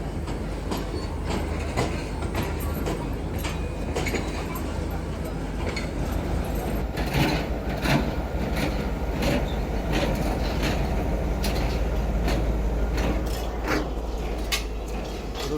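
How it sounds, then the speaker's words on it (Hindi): A train runs steadily past on the main line, its rolling wheels and rail clatter continuous and close, with a louder surge of passing cars midway; a voice talks faintly underneath at times. "और अब ट्रेन वापस जा रही है जहाँ से आई थी, लेकिन अब ये मेन लाइन 1 पर जाएगी।"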